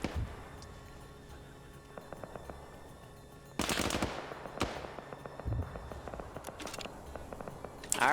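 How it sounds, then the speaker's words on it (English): Machine gun fire in a video game comes in short bursts and scattered shots, one louder dense volley in the middle, against quieter game background noise. "Now machine gun's now firing at him."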